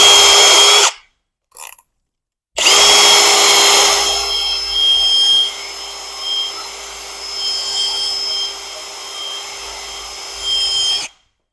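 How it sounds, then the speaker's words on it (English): A handheld drill spins a polishing compound pad against the fender of a 2024 GMC AT4 truck, giving a loud steady whine with a sustained tone, a short cutout near the start, then continuous buffing with slight swells. "this attachment I have just goes on the drill"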